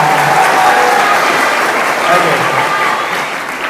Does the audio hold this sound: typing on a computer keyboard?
no